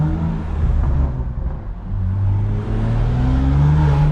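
A BMW M3 G80 with a loud illegal exhaust drones steadily while driving at night, engine tone rising and falling with a brief dip mid-pull before climbing again, heard from inside the cabin.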